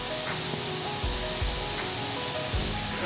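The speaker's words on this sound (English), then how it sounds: "Oh my god, the waterfall is just there only." A tall waterfall in Mae Hong Son, Thailand, drops about 80 metres, sending up a steady, broad roar of falling water that fills the scene without any talk.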